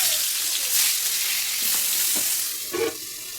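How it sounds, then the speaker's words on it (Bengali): Ashin fish fry in hot oil under a lid, giving a steady loud sizzle and spatter with a few sharper pops near the end. "এই আশিন মাছগুলো যে এত ফাটে যে কি বলবো, পুরো একদম চোখে মুখে এসে লাগে তেল।"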